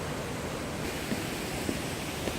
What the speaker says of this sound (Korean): 자, 폭포의 위용.